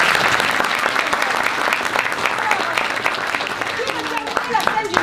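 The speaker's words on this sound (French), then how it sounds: "Un peu d'applaudissements" Applause from an audience at a children's end-of-year theatre show for 9–11-year-olds, a steady wash of many hands clapping that continues throughout, with a few voices mixed in.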